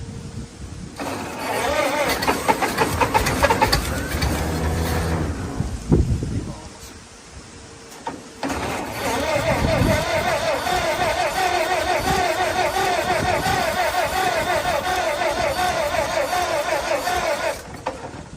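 An old Ford Model T engine cranks over in bursts on a farm, its rough mechanical churning interrupted by a short pause before resuming steadily, with wind buffeting the microphone and people talking nearby.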